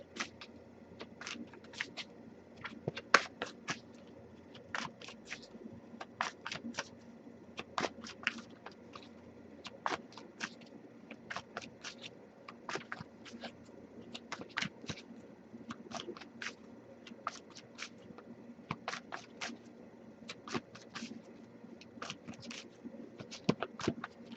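An oracle card deck being shuffled by hand, repeated crisp bursts of card riffling and slapping in an irregular rhythm, close and clear with no talking.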